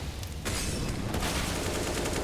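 Gunfire in Counter-Strike: Global Offensive on the Nuke map during a pro match: a brief quieter lead-in, then a loud rattling burst of shots that keeps up as a dense barrage to the end.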